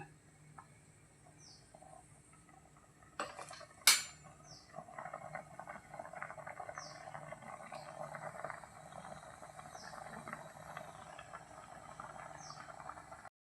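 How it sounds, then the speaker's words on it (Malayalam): Washed fish pieces are tossed into a pan for a coconut-free fish curry, making a short sharp clatter, followed by a soft, steady sizzle and bubbling that continues at low volume. "ഇനി അതിലേക്ക് നമ്മൾ മീൻ വാരിയിടാം"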